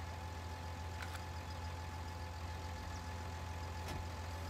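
A tractor engine idles with a steady low rumble that holds evenly throughout. It sounds continuous and fairly faint, with no voices over it.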